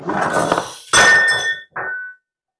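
A plate clatters in a home kitchen while baked potatoes with salo are being served, with a glassy clink, a second sharp ring and a shorter rattle, loud and close; laughter and chatter come just before.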